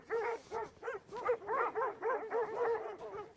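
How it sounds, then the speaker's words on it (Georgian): Dogs barking near a sheep flock on a cold, misty mountain trail at about 3000 metres, a quick run of a dozen rhythmic yelping barks, fairly faint and heard alone. "ძაღლების ყეფა ისმის."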